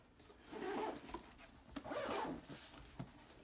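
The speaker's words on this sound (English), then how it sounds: "We're gonna take it out so we can zip it up better." A zipper being drawn closed on a camera pouch inside a travel packing cube, two close rasping pulls with a short pause between them, with no talking.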